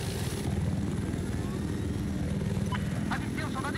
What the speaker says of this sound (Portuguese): Mais a leste da sua localização, parece haver um helicóptero inimigo.